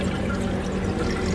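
Water churns and splashes continuously in a garden aquarium pond, a dense, loud, steady rushing noise from close by with no pauses.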